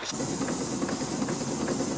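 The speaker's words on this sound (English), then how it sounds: "It leaks steam and it puffs and it puffs." Steam engine on a canal boat gives off a continuous close hiss of leaking steam, with faint soft puffs running through it, moderately quiet and with no voices.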